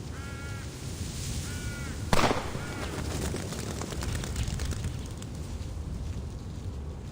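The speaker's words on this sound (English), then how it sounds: "Was that, a gunshot?" A single sharp gunshot cracks out in Reverse 1999, loud and sudden, and leaves a noisy rustling tail. Crow-like caws are heard before and after it.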